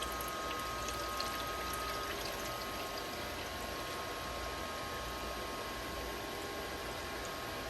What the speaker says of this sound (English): I'm going to just go ahead and add water till it's almost full.